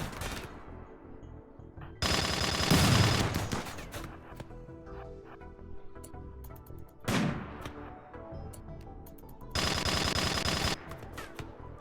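Bursts of automatic gunfire in the video game Rimworld during a raid, three loud sustained volleys with scattered single shots between them, no talk.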